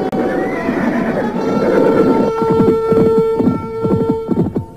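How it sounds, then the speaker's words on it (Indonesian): Horses neigh and whinny loudly up close, then break into a rhythmic run of galloping hoofbeats along a path, with no voices. "Keduanya kemudian memacu kudanya menelusuri jalan setapak."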